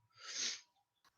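One person sneezes once, a single sharp burst that is fairly quiet and close, followed by a faint breath or voice at the end.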